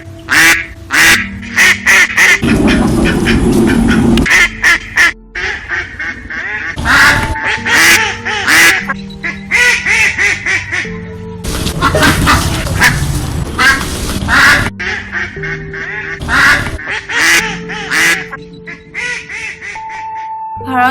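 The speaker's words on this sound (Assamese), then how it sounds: "আমাৰ সকলোৰে পৰিচিত এই চৰাইবিধৰ নাম হৈছে পাতিহাঁহ বা ঘৰচীয়া হাঁহ" A domestic duck quacking loudly and close, in bursts of harsh honking quacks, some drawn out and others short and repeated, separated by brief pauses.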